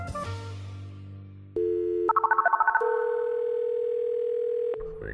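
A telephone dial tone hums steadily, then a quick burst of about ten dialing beeps rattles out before a second long, even tone holds, all close and clear with no talking.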